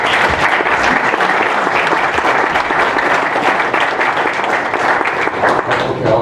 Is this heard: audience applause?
yes